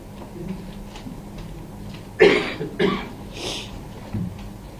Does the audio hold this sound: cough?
yes